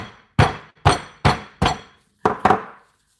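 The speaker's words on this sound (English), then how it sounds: "I'm going to try and hammer this" Six sharp hammer strikes crack against a lobster shell, spaced unevenly, each a hard knock with a short ringing tail, the last two coming in quick succession.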